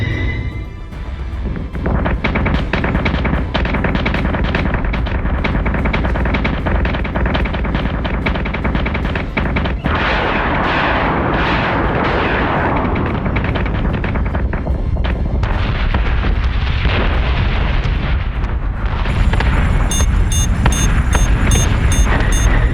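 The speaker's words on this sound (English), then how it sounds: "Missiles incoming!" Missile fire and explosions in the space combat game Battlestar Galactica Deadlock, a dense, loud, continuous barrage of booms and rumbling blasts that keeps up for the whole stretch, with sharp crackling hits layered over it.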